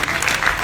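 A short burst of congregation applause at a church service, many hands clapping together at once, loud and steady for under a second.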